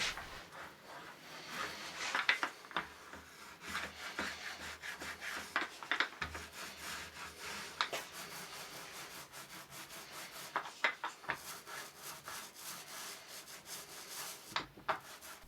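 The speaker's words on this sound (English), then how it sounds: "I sanded down the edges of the MDF" Edges of painted MDF being sanded by hand: repeated rough, scratchy rubbing strokes at close range, with an uneven rhythm and no voices.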